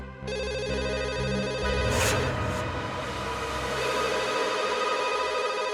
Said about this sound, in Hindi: इतनी रात को कौन फोन कर रहा है?